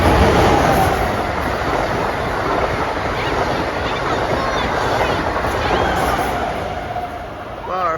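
An Amtrak Acela high-speed train rushes past Fairfield station, a loud, sustained roar of wheels and air that fades slightly near the end.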